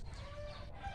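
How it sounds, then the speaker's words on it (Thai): A rooster crows faintly at a distance over a quiet rural morning background, one short call with no talking. "ไก่จะเสียงร้องนิดนึงเสียงไก่ร้องนิดนึงนะฮะ"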